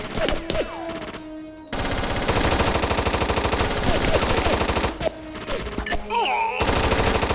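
Rapid automatic gunfire from the video game SOCOM Fireteam Bravo in sustained loud bursts, broken by brief pauses and sharp whizzing effects.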